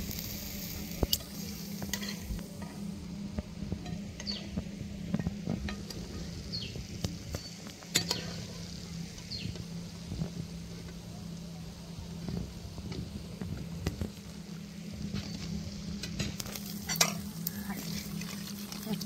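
A spoon turns freshly fried jalebi in sugar syrup, giving scattered light clicks and scrapes over a soft, steady hiss and low hum in a home kitchen.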